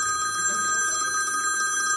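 A telephone rings with a continuous, bright electronic tone, steady and moderately loud, with faint background murmur beneath it.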